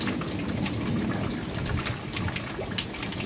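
Steady rain during a thunderstorm hisses evenly and continuously at close range, with no voices and no audible thunder.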